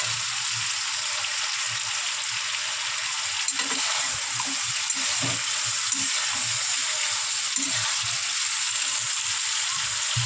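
Malabar spinach stalks fry in a pan for a prawn, taro and spinach dish, a loud steady sizzle running throughout, with a few soft stirring knocks and scrapes underneath and no talk.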